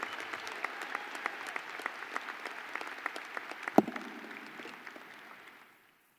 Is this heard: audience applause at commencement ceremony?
yes